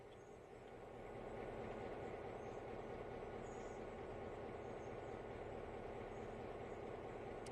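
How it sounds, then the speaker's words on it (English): Trains run on the Blue Ridge Western Railroad, giving a faint, steady rumbling wash that swells slightly in the first second and then holds even throughout, with no voices. "you just hear the trains running and me, blabbering over there"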